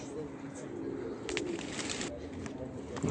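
A pet racing pigeon coos outdoors, soft repeated calls set against a steady wash of background noise and faint distant sounds.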